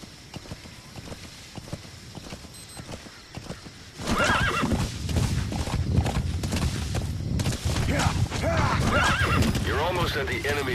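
A horse in the Metal Gear Solid V: The Phantom Pain video game gives loud whinnies over a rhythmic clip-clop of hooves, while someone talks over the game sounds and the scene gets louder and busier partway through.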